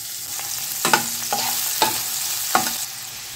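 Two chopped onions hit hot oil already holding cinnamon, cardamom, cloves, star anise and bay leaf, giving a steady close sizzle broken by four or five sharp spatula clinks and scrapes against the pan.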